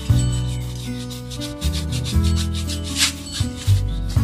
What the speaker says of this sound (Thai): อันนี้เราก็ทำการขัดไปเรื่อยๆนะครับ ขัดเหมือนขัดรองเท้านะครับ ขัดให้มีความเงานะครับ